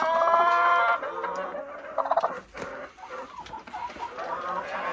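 Chickens cluck and squawk nearby in short, uneven bursts, with a brief rustle of movement between calls.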